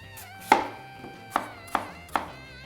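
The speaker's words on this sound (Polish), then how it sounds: "Jabłka obrane musimy je teraz pokroić w drobną kostkę." A knife chopping peeled apples into small cubes on a kitchen board: four distinct sharp knocks, close and clear, spaced unevenly with quiet between them.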